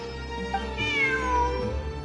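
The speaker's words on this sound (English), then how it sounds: "Look! A cat!" A cat in the video game Genshin Impact gives a single drawn-out meow that rises and falls, clear and close over a steady low game soundtrack.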